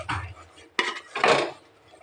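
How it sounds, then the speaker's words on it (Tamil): A ladle scrapes and clatters against a pot on the stove while thick black urad dal kali is stirred, giving three close metallic bursts with short pauses between them. "நல்லா ஃபயர் வச்சு நல்லா கலக்கி விட்டுக்கலாம்"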